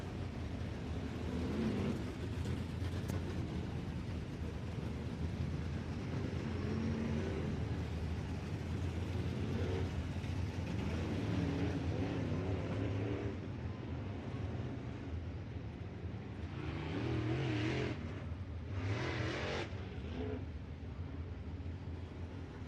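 IMCA Modified race cars circle a dirt speedway during an A-Main feature, a steady distant roar of engines that swells as the pack passes, with wind rumble over the microphone.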